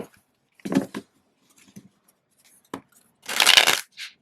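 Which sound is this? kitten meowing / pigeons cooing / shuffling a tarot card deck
shuffling a tarot card deck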